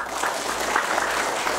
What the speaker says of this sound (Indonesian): Mau tepuk tangan dulu.